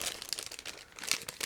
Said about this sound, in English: So I'm opening the plastic bag as well.